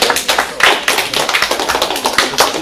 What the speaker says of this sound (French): Eh ben on peut applaudir, allez hop!